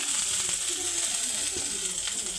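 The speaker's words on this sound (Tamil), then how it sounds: "இப்போ நான் வெங்காயத்தை போட்டு வதக்கிட்டு வெண்டைக்காயோடு வதக்கிட்டு" Onion and okra sizzle and crackle in a hot pan, a constant frying hiss with a few faint clinks of stirring.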